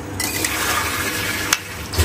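Water is poured into crab curry masala in a pan, making a steady gushing, splashing pour that runs continuously, with a brief clink partway through.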